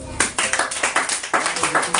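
Church congregation at a Sunday service clapping in a steady, quick rhythm, loud and close, sounding like many hands beating together in time.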